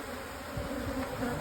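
Honeybees buzz over a brood frame lifted from a hive, where the queen is present: a dense, steady drone of many bees close by, with no talk.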